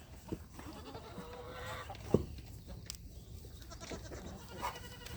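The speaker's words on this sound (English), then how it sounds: "now we're going to be getting the little baby goats out so that they start getting fed" Quiet, faint bleats from baby goats rise now and then over a low, busy morning farmyard background at feeding time, with one slightly louder call in the middle.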